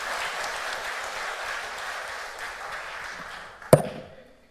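A church congregation claps to welcome an elder before his sermon. The broad wash of applause thins and fades out, then a single sharp knock rings out near the end.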